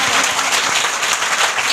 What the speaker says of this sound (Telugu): యేసయ్య భక్తులందరూ గట్టిగా చప్పట్లు కొట్టండి.